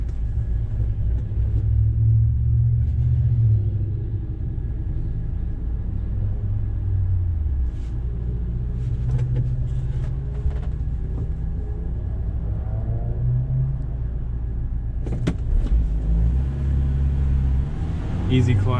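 A 1988 Toyota Hiace fire truck with a 1.8 gas engine and rear-wheel drive drives along with a low, steady engine rumble that dips and rises as it shifts through the gears, with faint clicks in the cabin.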